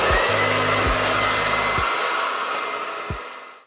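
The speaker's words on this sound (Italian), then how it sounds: "Asciugo sempre spazzola e phon le ultime ciocche che rimangono sul lato destro." Hair dryer blowing while hair is dried with a brush, a steady loud whooshing roar close by, with several brief brush or handling thumps through it before it cuts off.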